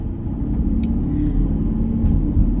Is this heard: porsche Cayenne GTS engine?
yes